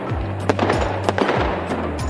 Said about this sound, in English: an extravagant fireworks display that painted the night sky with cascades of colors